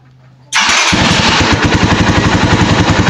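A Euro 186 motorcycle with an intermittent running fault starts abruptly and settles into a loud, close, rapidly pulsing idle that continues steadily to the end.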